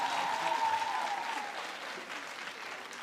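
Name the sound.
audience applause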